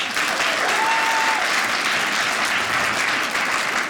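A comedy club audience at a stand-up special bursts into steady, even applause, a thick wash of clapping lasting about four seconds.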